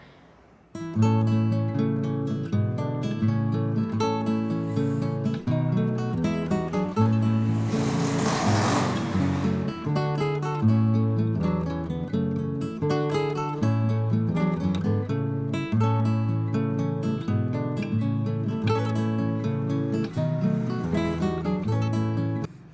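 A sewing machine stitching lace onto both sides of a boat-neck blouse, a close, steady rapid mechanical whirring that runs for long stretches with brief pauses and changes in speed, no talking.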